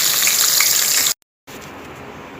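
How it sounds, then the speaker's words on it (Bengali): Cabbage pieces frying in hot oil give a steady loud hiss and sizzle, cutting out abruptly for a moment before resuming more softly. "আমি বাঁধাকপিগুলোকে একটা একটা করে লাল করে এপিট ওপিট করে ভেজে নিই"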